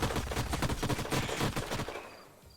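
Rapid bursts of automatic gunfire ring out in an Age of Wonders: Planetfall battle, several quick shots in a row that stop suddenly and give way to a fading tail.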